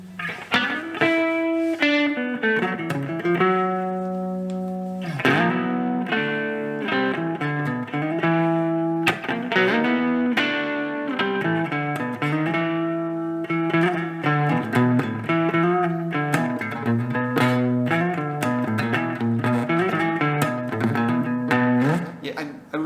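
Electric guitar played through a Marshall MG15FX amp with delay and reverb, chords and melodic lines ringing out with echoing tails, steady and clear, no talking.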